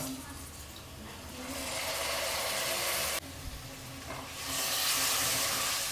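Capsicum curry sizzling in a pan as it's stirred, a broad frying hiss that swells and cuts briefly before growing louder again, with a voice talking alongside.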